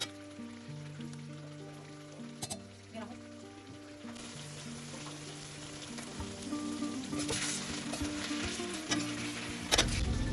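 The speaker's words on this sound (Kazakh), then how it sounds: "Енді тауықты орташа отта араластырып, 7-10 минуттай қуырамыз." Chicken for Namangan pilaf fries over medium heat in an uncovered cauldron with a steady, even sizzle that grows slightly louder, with occasional stirring clatter and a faint hum behind it.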